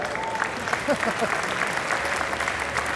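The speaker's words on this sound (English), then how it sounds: "I want you to please give a big round of applause to our wonderful performers, the Edge Effect." An audience gives a big round of applause to the performers at a charity presentation event. The clapping is dense and steady for about three seconds, with faint voices in the crowd beneath it.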